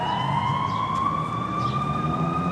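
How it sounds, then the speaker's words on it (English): An ambulance siren wails steadily in the background at a Labor Day gathering on the Woodstock town square, a constant rising tone over outdoor crowd noise. "Hearing the ambulance in the background."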